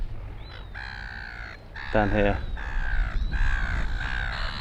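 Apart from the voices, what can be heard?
seagulls squabbling and calling at the foreshore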